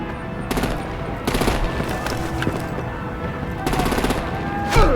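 Rapid bursts of automatic gunfire from Batman: The Telltale Series crackle in several volleys over a steady roar of combat noise, loud and close, with a sharper blast at the end.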